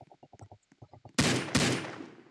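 Two sharp, loud pistol gunshots crack close together in the Roblox video game, following a run of quieter soft thumps and clicks, with the second shot's echo trailing off.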